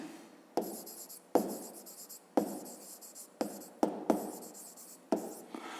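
A pen scratches across paper in short bursts, with several distinct strokes separated by brief pauses, close and quiet.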